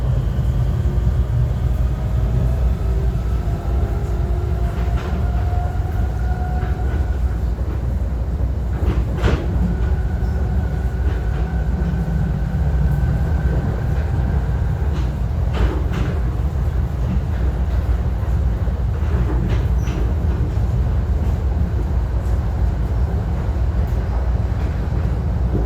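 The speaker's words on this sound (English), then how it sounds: "let's watch the acceleration of these trains in action" Onboard an NJ Transit Arrow train as it accelerates: a loud, steady low rumble of motors and wheels fills the cabin, with faint rising whines and occasional clunks from the car, and no speech.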